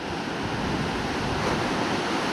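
Rough sea at the Point Avoid lookout in Coffin Bay National Park, a continuous broad roar of surf blended with wind buffeting the microphone, loud and unbroken.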